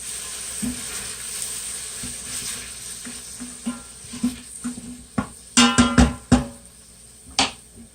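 Ingredients for cauliflower soup sizzle in a pan under a constant hiss, with quiet irregular scrapes and clinks of stirring that grow busier toward the end, close up and with no voices.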